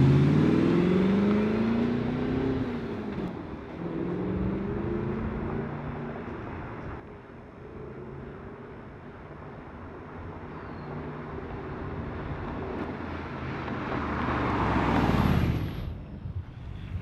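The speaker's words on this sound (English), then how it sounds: "I'm gonna just drive down this road and show you how bouncy my car is." An Audi R8 sports car driving slowly at around 25 mph down a bumpy road, a steady low engine drone with rising and falling rumble and road noise from inside the cabin, easing off near the end.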